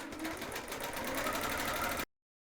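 A Qnique 21X Elite longarm quilting machine stitches out a bear design, a fast, even mechanical whirring hum with rapid needle pulses, close and loud, cutting off abruptly.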